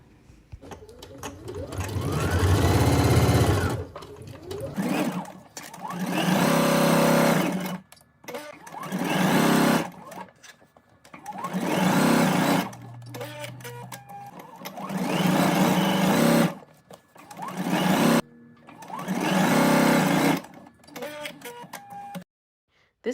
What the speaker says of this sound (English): go ahead and stitch those together.